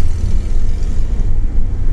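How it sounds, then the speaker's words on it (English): Air-cooled Volkswagen Type 3 engine running at steady idle, a loud, continuous low rumble with no talk over it. "That's the sound of a Volkswagen engine, as they should all be used to be."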